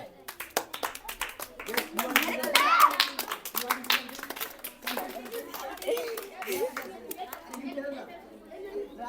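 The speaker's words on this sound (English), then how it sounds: "Big clap" Scattered clapping from a small group of students in a village-versus-city classroom debate, sharp irregular hand claps running under chatter and talk, moderately close and fading in and out.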